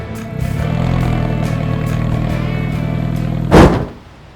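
An Alfa Romeo 4C coupe engine idles and rumbles steadily, then revs sharply near the end as it passes close by before fading.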